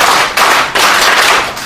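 An audience at a Korean press conference claps in unison four times. Each sharp, loud volley of many hands lands at an even pace, then trails into scattered clapping.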